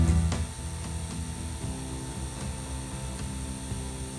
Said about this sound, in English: As you can hear, this lathe runs very quietly.